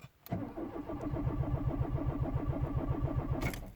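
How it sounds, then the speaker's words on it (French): Renault Mégane 1.6 16v with a faulty TDC sensor cranking without catching: a close, loud starter whir with a rapid, even chugging rhythm for about three seconds, then it stops abruptly. "Là, je suis dans la voiture, là. Et je vais essayer de faire le démarrage."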